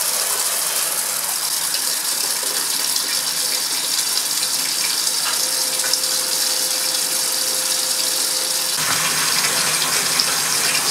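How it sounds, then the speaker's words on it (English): Vacuum pump for filtering a fine copper chromite catalyst precipitate in a chemistry lab, a steady loud mechanical whir with rattling, ratchet-like texture running throughout, alone with no talk. "let me get the vacuum on."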